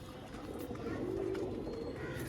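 A pigeon gives a low, soft coo close by, a brief rolling call over a steady murmur of background noise.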